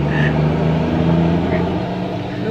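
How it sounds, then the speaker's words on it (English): A big truck passes nearby, its loud, low engine rumble and road roar filling the whole short stretch with a steady drone. "Wait for that big old truck to pass by, because it's making a lot of noise."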